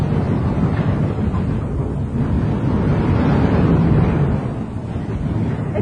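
Steady wind roaring across the microphone on an Oktoberfest figure-eight fairground ride, a broad continuous rush that swells and eases without a break for the whole stretch, with no talking over it.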